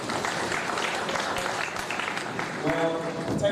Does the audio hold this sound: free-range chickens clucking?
no